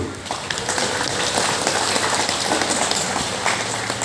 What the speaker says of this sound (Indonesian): Aplaus untuk Bapak Ibu dulu